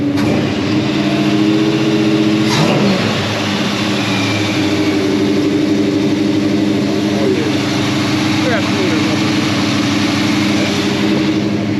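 Engine of a Chevy C-10 pickup with a newly installed carburetor idling steadily and smoothly, a loud close-up drone with a brief rev near the start and a voice over it.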